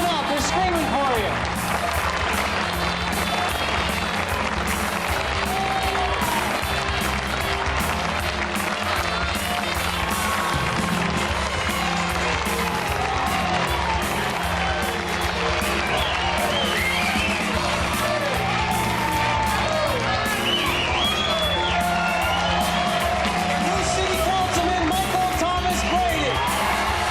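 A crowd at an election victory celebration cheers, whoops and applauds a winning campaign, a dense and continuous roar of many voices and hands with people talking over it throughout.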